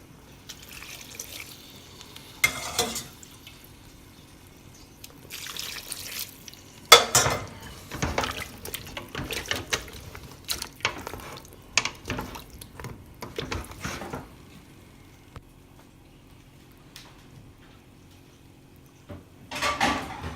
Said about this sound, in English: Deglaze some more using the beef broth.